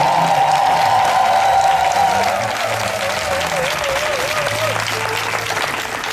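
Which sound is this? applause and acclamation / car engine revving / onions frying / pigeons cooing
applause and acclamation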